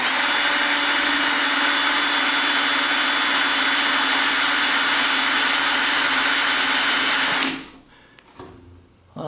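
A dull center drill whines steadily into a cabinet drawer extender, a loud continuous motor drone that runs for several seconds, then cuts off and spins down, leaving faint handling noises.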